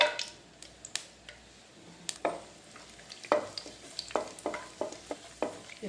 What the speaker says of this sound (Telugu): ఇప్పుడు ఇందులోనే కొద్దిగా నెయ్యి వేద్దాం వేసి కాజును ఫ్రై చేసుకుందాం అండి